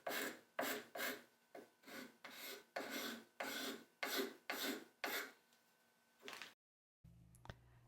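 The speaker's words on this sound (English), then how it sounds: "this is just another view of using the scraper blade to refine the shaft" A scraper blade shaves the wooden shaft of a handmade marking gauge in about ten close, even rasping strokes, each a short dry scrape, before a brief pause and a small knock.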